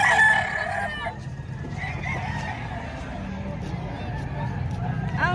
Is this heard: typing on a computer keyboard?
no